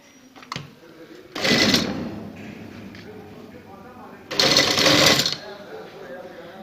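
A sewing machine stitches the neck edge of a baby girl's frock in two loud, close whirring bursts, with a voice talking quietly in the pauses between them.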